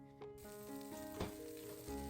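About one and a half tablespoons of butter sizzle steadily in a skillet over medium heat, a close, soft crackling hiss that carries on alone without talk.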